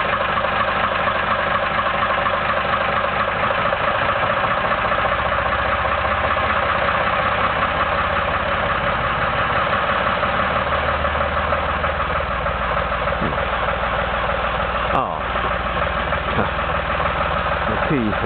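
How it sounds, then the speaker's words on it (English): A Beta Marine BD3 diesel engine in a tug runs loud and steady throughout, with its pitch lifting slightly as it is revved, and a brief knock near the end. "so I'll just rev the engine up a bit."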